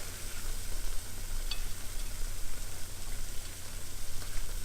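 Bacon bits fry in a pan with zucchini and eggs, making a continuous crackling sizzle with scattered pops and no voices.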